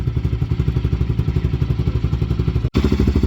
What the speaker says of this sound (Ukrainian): з заводу китайський мотоцикл ляп і запускається